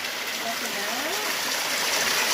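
Continuous rushing water of a waterfall dropping into a deep pool on an Arizona trail, a broad steady roar with a faint voice murmuring briefly underneath.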